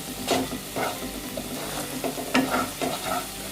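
Mushroom masala gravy with coriander powder sautéing in oil, dhaba style, gives a close, steady sizzle broken by repeated scraping stirs of a spoon through the pan, with no voices.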